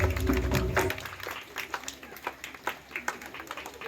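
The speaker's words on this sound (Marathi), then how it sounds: "एकदा परत टाळ्या वाजवा" Audience applause after a Nari Shakti group dance performance to Mahishasura Mardini, loud and dense at first, then thinning into scattered claps over about four seconds.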